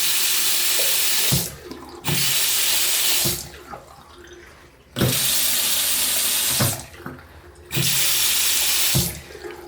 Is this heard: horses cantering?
no